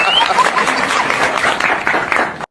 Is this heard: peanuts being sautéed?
no